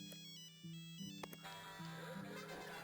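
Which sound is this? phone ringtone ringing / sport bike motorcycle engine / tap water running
phone ringtone ringing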